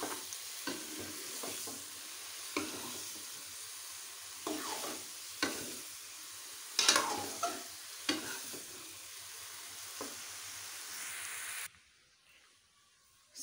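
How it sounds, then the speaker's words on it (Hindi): Eggplant pieces fry in a pot with a steady sizzle, interrupted every second or two by louder scraping strokes of a stirring spoon, until the frying cuts off abruptly near the end, leaving near silence. "बैंगन भी थोड़े से भूनूंगी, भून के फिर इनको ज़रा दम पे रख देंगे"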